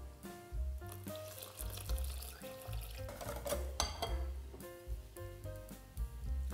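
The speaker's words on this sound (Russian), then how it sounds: "И теперь я добавляю половину молока," Milk poured into flour for batter, a faint liquid splashing and trickling heard under background music.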